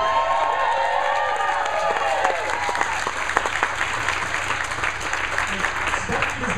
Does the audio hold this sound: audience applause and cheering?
yes